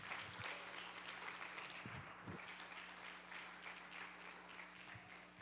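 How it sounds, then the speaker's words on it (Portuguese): Quiet, distant applause from a church congregation during a worship service, a steady wash of clapping heard faintly throughout with a low hum beneath it. "Vamos dar uma salva de palmas para o Senhor Jesus Cristo?"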